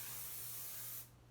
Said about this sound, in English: how I do a longer spray as opposed to squirts too close to my head